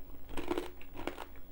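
Crunchy cranberry granola is bitten and chewed up close, giving a few quiet, crisp crunches in quick succession with no talking.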